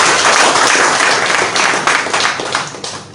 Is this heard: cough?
no